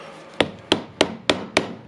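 A hammer strikes a screwdriver into a damaged flat-head screw on a power tool's gearbox, five sharp metallic taps at a steady, slightly quickening rhythm, close and crisp with no talking.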